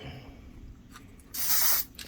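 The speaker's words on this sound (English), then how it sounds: "spray the top, spray the bottom, spray kind of the sides" Aerosol clear coat is sprayed onto a copper and fabric ring: a faint, brief spurt, then one loud, steady hiss lasting about half a second before cutting off, with a quick tap at the end.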